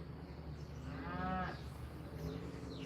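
A single cow lets out a drawn-out, low moo at middle distance over a constant background hum, with a fainter second call fading in toward the end.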